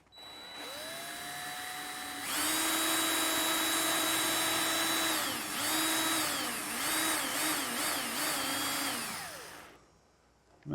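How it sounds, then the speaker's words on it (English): A power drill bores a hole in aircraft-project material under its own weight, whirring loud and steady for several seconds, its pitch dipping and wavering as it bites before it winds down and stops. "Weight of the drill only."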